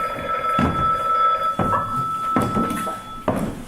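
A hotel telephone rings in repeated bell bursts, about four rings evenly spaced, loud and close, with no speech.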